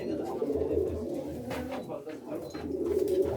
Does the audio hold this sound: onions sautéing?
no